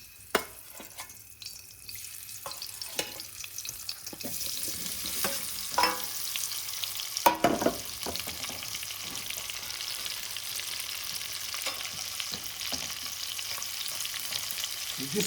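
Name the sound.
paneer frying in melted ghee with spices and spinach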